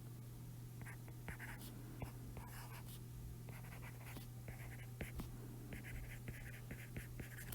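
Pen writing a math solution by hand, a series of close scratchy strokes in short bursts over a steady electrical hum, with faint voice-like sound in the background.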